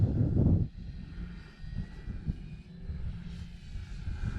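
An Air Tractor crop-dusting plane flies overhead with a steady engine drone. A stronger low rumble comes at the start, then the sound settles into a moderate, continuous hum with gusty fluctuations, and no one speaks.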